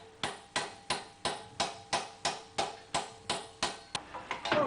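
Steady hammer blows on metal armour plate over a mushroom stake, about thirteen evenly spaced ringing strikes close up, quickening slightly at the end, with no talking.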